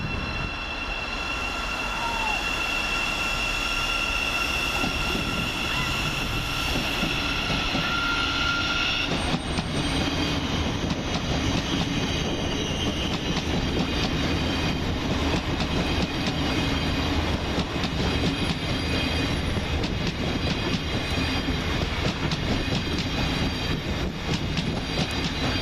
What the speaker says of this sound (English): Next out is 700-127, working the 1454 to be a Thameslink service to Horsham via London St Pancras International.